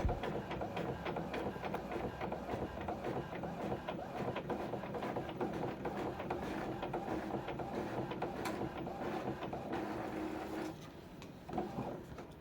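An office printer prints a layout sheet, its mechanism whirring and clicking in a steady rhythmic churn at low volume, ending with a short change in tone as the page finishes.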